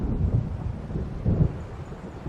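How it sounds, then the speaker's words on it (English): Low rumbling thunder from an approaching storm in the Alan Wake video game, a continuous deep roll with two swells, dense low-end energy and no voices. "It seems there's a storm coming."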